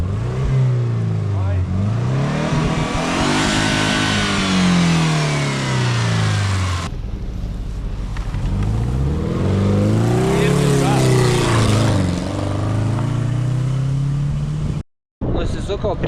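A jeep engine with a broken front driveshaft and stripped differential gears revs up and down in long swells, loud and close, while voices talk over it, followed by a brief cutout near the end.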